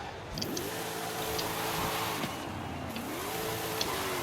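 An MG XPower car engine in Forza Horizon 5 revs repeatedly, pitch climbing and dropping in loud, close sweeps with a constant growl underneath, no talking.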